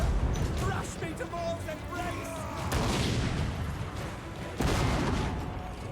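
Guns and cannons fire in a Total War: Warhammer 3 battle, with heavy booms and scattered volleys over a dense, loud battlefield din while someone talks throughout.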